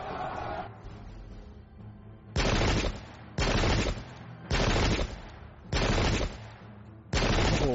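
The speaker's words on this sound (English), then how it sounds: "Some residual shooting." Volleys of musket gunfire in the video game Pike & Shot crack out in five loud, dense bursts, each about a second long and separated by short gaps of quieter battle noise.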